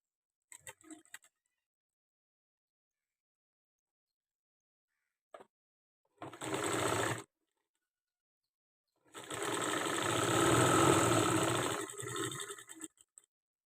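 A sewing machine stitching thread piping on a blouse runs in two bursts, a short one and then a longer steady whir of rapid needle strokes, with brief clicks and silent pauses between.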